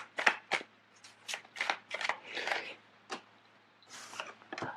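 Tarot cards are shuffled and drawn close by, a series of quick papery riffles and snaps in uneven bursts with short pauses between them, and no talk.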